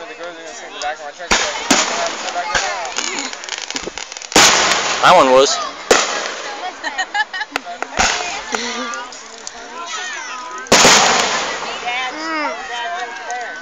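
Fireworks at a Keokuk firework display bang in several loud, sharp bursts followed by crackling, while people chat nearby.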